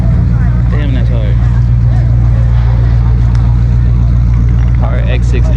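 A BMW X6M fitted with a big single turbo, heard at a crowded car meet as a loud, constant low engine rumble, with crowd chatter and voices mixed in.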